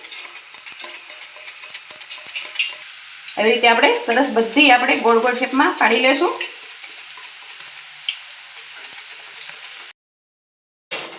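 Raw banana wafer slices fry in hot oil with a steady sizzle that swells into a loud bubbling burst midway, while someone talks over the cooking.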